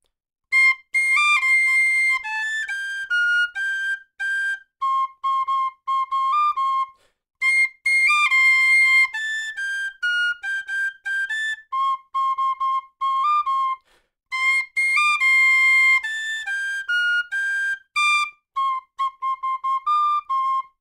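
A tin whistle plays a melodic solo in clear, bright phrases of sustained and stepping notes with short gaps between them, close and unaccompanied.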